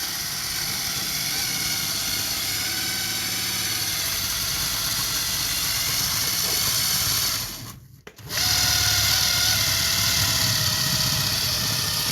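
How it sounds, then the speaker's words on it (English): A motorized Orient Express model train runs at full power, a loud, steady mechanical whir and buzzing hum that cuts out abruptly for a moment near the end, then resumes at the same level, with no speech. "Let's go ahead and give it full power."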